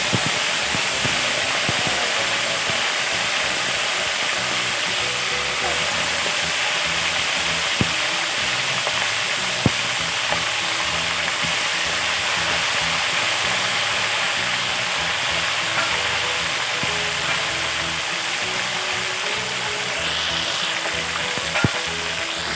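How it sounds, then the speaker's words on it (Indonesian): Turmeric-marinated chicken fries in hot oil with a dense, continuous sizzle and hiss, loud and steady throughout with a few faint pops and no talking. "Ini minyaknya udah panas, kita masukkan terus ayamnya."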